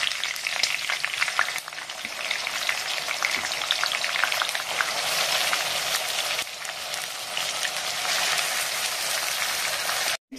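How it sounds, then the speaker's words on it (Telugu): Spice paste sizzles and spatters steadily in hot oil in a pan for a small-fish curry, a loud, continuous crackling hiss with occasional stirring, ending in a brief silence. "సో ఇప్పుడు ఈ పేస్ట్ వేసేస్తున్నానండి."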